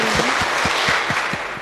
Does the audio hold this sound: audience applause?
yes